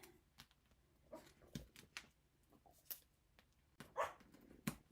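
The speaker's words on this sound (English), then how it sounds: "Now she's going to start barking. She sees herself in the shower door down here." A dog barks in short, scattered bursts at her own reflection in a shower door, the yaps faint and irregular with quiet pauses between them.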